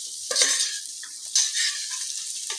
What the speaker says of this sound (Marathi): व्हेजीज आपण या व्हेजीसला टॉस करून घेऊया।